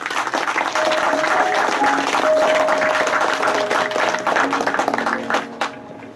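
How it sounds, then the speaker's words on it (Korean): An audience claps warmly for a professor being welcomed to the stage at a Korean academic lecture, a full, even patter of many hands that holds steady before tapering slightly at the end. "큰 박수로 모시겠습니다"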